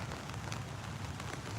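Steady rain falls in a garden, a dense, even hiss of drops on leaves and surfaces with a low rumble underneath and no speech.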